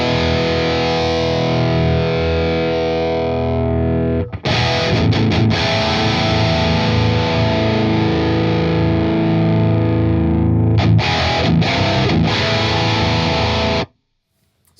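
Heavily distorted electric guitar through a Neural DSP Fortin Nameless amp plugin with a single cabinet microphone, thick chugging riffs with brief stops, loud and close, cutting to silence at the end.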